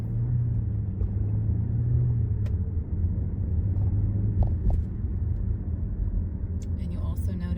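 Low, steady road rumble from inside a car driving east along a suburban parkway in Frisco, Texas, a constant engine and tire drone with a few faint clicks near the end.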